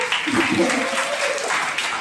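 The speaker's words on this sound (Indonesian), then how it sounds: "Iya, udah tepuk tangan ya." Audience applause at a campus event at UMY in Yogyakarta, a steady crowd clapping throughout, with voices mixed in underneath.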